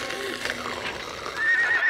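A horse whinnies loudly at close range, a rising, shaky neigh that swells near the end, with some scuffling noise underneath.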